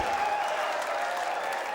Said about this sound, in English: I think even the Welsh fans were applauding